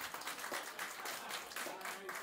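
An audience applauds in a show setting, a soft, continuous rustle of many hands clapping at low level with faint crowd murmur and voices underneath.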